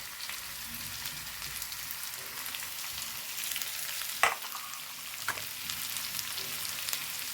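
Onions frying in a pan for an egg fry, a steady soft sizzle throughout with a couple of brief scraping stirs near the middle, fairly quiet and without talk.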